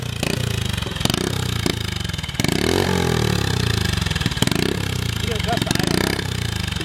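Turbocharged pit bike engine running roughly at a loud, steady idle, with a few sharp blips and a brief dip in the middle, while people talk over it.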